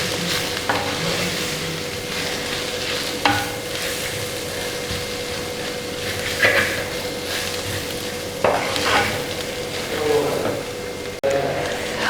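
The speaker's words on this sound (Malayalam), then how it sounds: "നന്നായിട്ട് മിക്സ് ചെയ്ത് കൊടുക്കുക." Shredded chicken thoran stirred in a pan, with a soft steady sizzle and scraping spoon strokes recurring every few seconds, close and moderate, under a faint voice in places.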